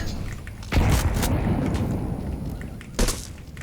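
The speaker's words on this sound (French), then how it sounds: "Grenade out." A grenade blast in Counter Strike 2, with two deep, loud booms, the first long and rolling, the second shorter, over a dense, continuous game-noise background.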